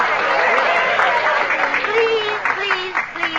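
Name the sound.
audience applause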